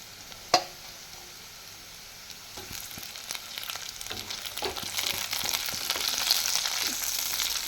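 Tomato dropped into reddened onion frying in oil in a pan, a sharp thud at the start and then a sizzle that builds and grows steadily louder, with light stirring scrapes, close and without speech.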